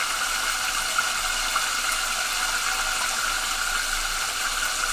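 Water spraying hard from a tap, a steady loud hiss that holds evenly throughout, close to the microphone with no voices over it.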